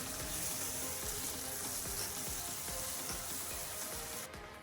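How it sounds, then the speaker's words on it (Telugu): Onions and masala paste frying in hot oil in a kadai: a loud, steady, crackling sizzle with fine popping texture that holds evenly throughout, close up and uninterrupted. "కట్ చేసుకున్న ఉల్లిపాయలు వేసి వేపుకోవాలి. ఇలా కలర్ చేంజ్ అయ్యాక ప్రిపేర్ చేసుకున్న పేస్ట్ వేసి వేపుకోవాలి."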